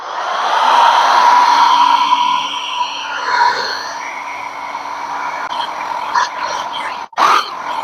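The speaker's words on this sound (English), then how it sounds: "I'm gonna use my blower." A handheld blower dries wet watercolor paint on paper during abstract background painting. A steady, loud whirring rush runs for about seven seconds and cuts out briefly near the end before resuming.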